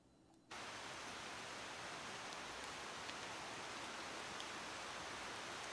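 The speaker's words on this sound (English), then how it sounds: "it's kind of like started raining a bit more" Steady rain falling in a Costa Rica forest, a dense even hiss that starts abruptly after a brief quiet moment and continues unbroken, with no talk.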